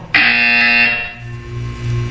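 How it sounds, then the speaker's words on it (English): A loud, harsh electronic buzzer from the video game Portal 2 sounds once, a sustained tonal blare that cuts off after about a second and leaves a low hum. "When you hear the buzzer, look down at the floor."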